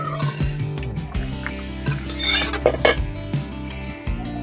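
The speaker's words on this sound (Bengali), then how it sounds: "এখন কাজু বাদামগুলো ভাজা হয়ে গেছে তুলে নিচ্ছি" A utensil clinks against a pan while fried cashew nuts are lifted out of hot oil, giving a few light metallic taps over steady background music.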